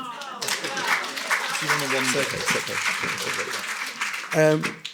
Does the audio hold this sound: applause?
yes